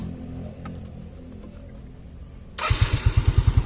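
A small carbureted Yamaha Mio scooter engine idles after a quiet stretch, its low putter pulsing in a quick, steady rhythm close by.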